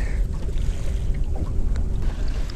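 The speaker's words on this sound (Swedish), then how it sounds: "Det blåser idag också" Steady wind buffeting the microphone outdoors, a constant low rumbling roar with gusty fluctuations throughout.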